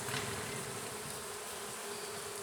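Honeybees buzzing and fanning in a nuc hive during an inspection, a continuous soft drone, faint and steady with no talking.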